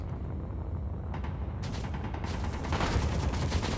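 Gunfire from weapons in the space sandbox game Space Engineers during a Mars rover build-off, a dense continuous rattle of shots that thickens and grows louder toward the end, with no talk over it.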